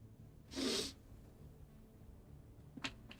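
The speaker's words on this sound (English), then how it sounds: "I tell you what, though, I am going to sneeze." A single loud, close human sneeze bursts out early, followed by quiet breathing and a faint sharp snort near the end.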